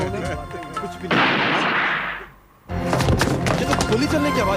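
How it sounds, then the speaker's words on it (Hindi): Loud sharp gunfire bursts out close by, followed by a brief lull and then more booming shots, with voices mixed in. "ये तो गोली चलने की आवाज थी।"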